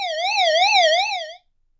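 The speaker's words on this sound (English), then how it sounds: "we have an SOS feature. And it usually has a siren." SOS siren from a Fospower Raddy RW3 retro-style emergency radio, a single warbling electronic tone rising and falling rapidly for over a second before cutting off abruptly.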